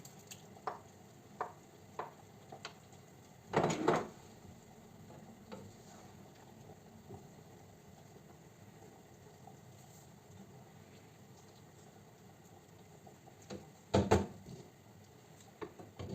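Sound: borscht dressing stewing in a pot

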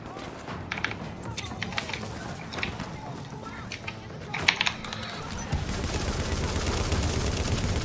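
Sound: gunfire in video game

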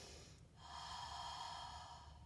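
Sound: slow breathing during stretching exercise

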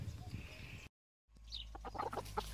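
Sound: chickens clucking

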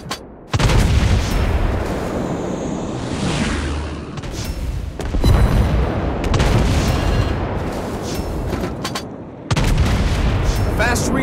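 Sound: naval cannon fire, World of Warships Blitz video game

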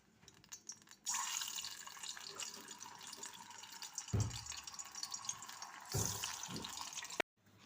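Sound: potato pieces frying in hot oil

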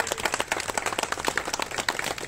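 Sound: crowd applause for the priest

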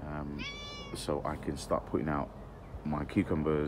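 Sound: cat meowing

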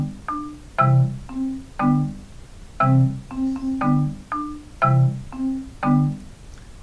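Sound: keyboard playing melody on top with chords below

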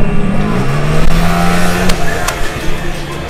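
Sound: Mini Cooper Abarth race cars on the track

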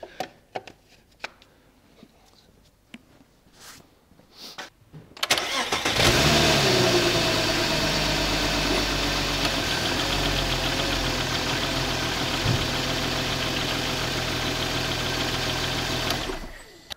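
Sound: car engine starting and idling

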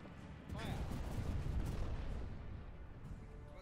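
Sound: ship cannon fire in video game Buccaneers!

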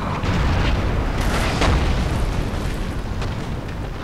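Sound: artillery firing in the video game Napoleon: Total War

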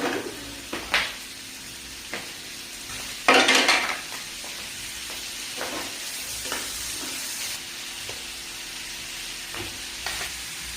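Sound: sautéing vegetables and fish in a pan

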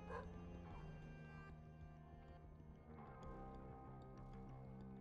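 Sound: dog barking in The Binding of Isaac video game

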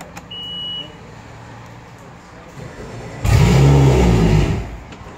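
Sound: engine started with ignition key and running

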